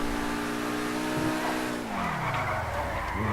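Pegassi supercar in Grand Theft Auto 5 skidding with a loud, continuous tire screech over a steady engine drone, the pitch sliding downward near the end.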